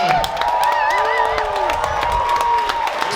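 A loud crowd at a monster truck show cheers and whoops steadily for several seconds, with a few shouts and some clapping mixed into the continuous roar.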